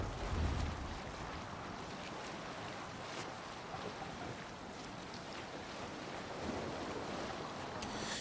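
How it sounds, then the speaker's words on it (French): A sailing ship out at sea in Assassin's Creed Valhalla, with steady wind and rolling waves washing around the hull and a gusty buffeting of wind noise throughout, no voices. "Levez le mât. Allez, on va laisser le vent nous mener."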